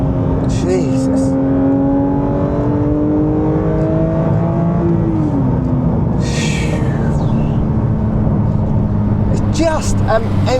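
Porsche GT3 engine accelerating hard, a loud sustained rising whine heard from inside the car, climbing in pitch before easing off, while a person talks and exclaims over it.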